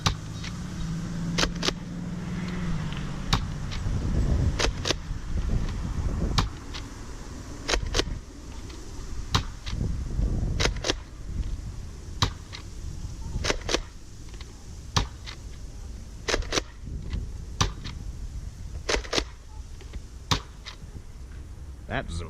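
An Air Warriors Ultra-Tek Reaper foam dart blaster firing Busby darts, a long series of sharp, clicky shots at an uneven pace over a steady background hum, with a voice heard faintly near the start.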